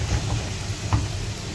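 Whole red chillies crackle and sizzle in hot oil for a dal tadka, a steady close hiss with a couple of soft pops, no voices.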